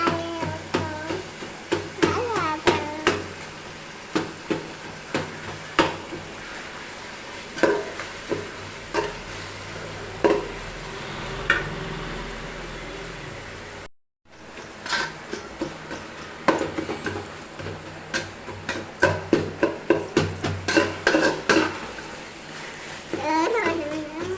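Coriander, curry leaves and mint are sautéed in a pan for coconut milk rice, with a spoon scraping and stirring through a soft sizzle and sharp clacks against the pan, a voice audible in the background.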